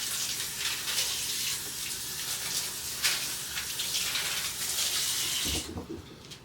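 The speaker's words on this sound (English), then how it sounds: "Rinse my hands off." Water runs steadily from a kitchen tap while hands are rinsed under it after cracking eggs for a spinach quiche, a constant close hiss that cuts off near the end with a few clunks.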